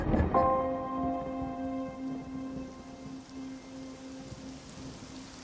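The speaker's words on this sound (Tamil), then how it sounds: "மழை பெய்யுது." Steady rain falls over a continuous hiss of drops. A brief tonal ring opens it, and a low hum runs underneath. No one speaks.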